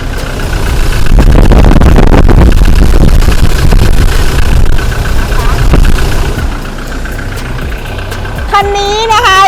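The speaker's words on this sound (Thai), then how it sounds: "นี่นะคะฟังเสียงเครื่องยนต์กันเลย" A 2017 single-cab truck with a box body idles loudly and steadily, its engine rumbling throughout, with a brief higher whine near the end.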